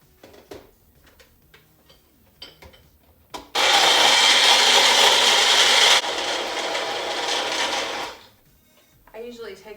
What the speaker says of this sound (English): And then I'm gonna blend it for 30 seconds.